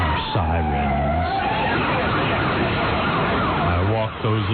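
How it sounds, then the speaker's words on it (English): A wailing siren sweeps up and down over a rumbling noisy background, with a voice-like harmonic sound at the start and end. "Sounds are sirens."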